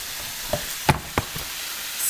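Meat browning in a hot pan for a stir-fry gives a steady sizzle, broken by a few sharp pops and crackles close by.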